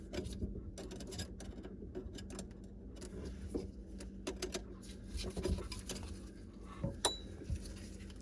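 A metal band clamp on a kitchen sink drain pipe is tightened with a driver, giving irregular small metallic clicks, ratcheting and clinks, close and quiet, with no one speaking.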